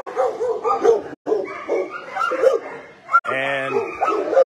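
Dogs at an animal shelter around feeding time bark and yip in repeated bursts, with a whimpering tone, close and fairly loud, mixed with a person talking over them.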